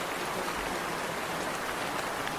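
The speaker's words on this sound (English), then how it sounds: "the rain starts to get tough" Heavy rain pours down steadily, a dense continuous hiss of drops striking surfaces, close and even throughout with no voices.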